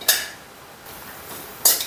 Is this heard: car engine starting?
no